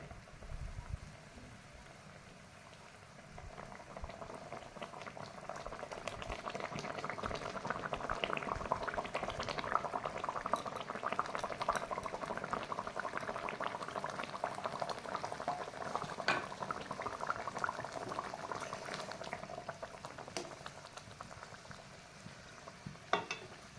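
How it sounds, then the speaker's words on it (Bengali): Mustard curry sauce for pabda fish bubbles in a pan, a steady low simmering burble with faint popping that gently swells and stays fairly quiet throughout, with no voices. "দেখুন বন্ধুরা, ঝোলটা ফুটতে শুরু করে দিয়েছে।"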